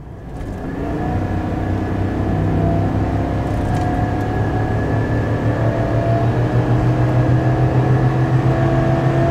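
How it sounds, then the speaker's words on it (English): A 2024 Chevy Silverado 3500 with the gas L8T engine, towing a fifth-wheel trailer up a 6% grade, roars at wide open throttle, its steady drone rising in pitch and holding loud and close without a break. "So I'm gonna do another wide open throttle."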